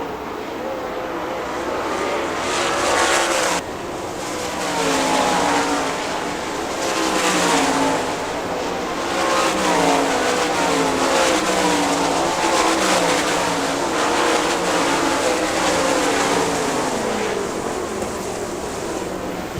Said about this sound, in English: Shane Stewart got the jump in the first lap of the feature, and Jeff Shepard slid underneath Jim Carter to take away second